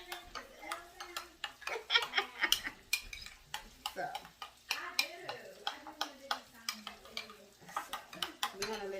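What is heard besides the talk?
salmon cooking in a pan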